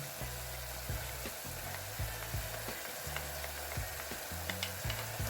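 Tomato paste frying with beef in a pot, a steady close sizzle with repeated low scraping and knocking of a spoon against the pot.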